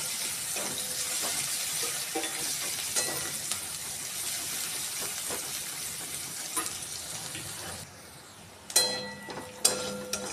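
Onions are lightly frying in hot oil for restaurant-style lemon pepper chicken, giving a constant bright sizzle. Toward the end come a few clinks and scrapes of stirring.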